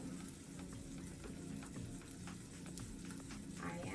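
A quinoa and kale patty sizzling in a pan, a steady close frying hiss with small crackles and pops running evenly throughout, with no voice over it.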